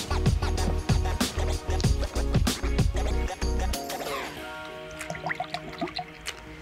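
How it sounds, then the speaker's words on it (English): A whole bottle of root beer extract is emptied into a mixing bowl of water, giving a faint, gurgling trickle of liquid that follows a stretch of rhythmic background beats. "pour in the whole bottle of root beer extract."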